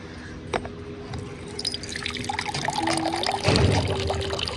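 Water being poured into a cup for drinking, heard as a soft trickle rising in pitch as the vessel fills, with light clinks and dribbling indoors.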